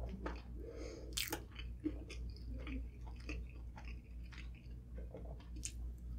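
Close, quiet chewing of a Five Guys double cheeseburger, with soft wet bites, squishy mouth sounds and the occasional crunch in an irregular rhythm, alone with no talking.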